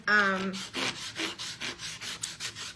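Chalk scribbled back and forth on sandpaper, a dry rasping scrape in steady rhythmic strokes, close and fairly quiet, about a dozen repeated passes.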